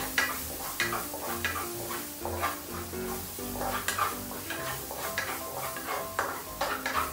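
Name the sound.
onions being stir-fried in a pan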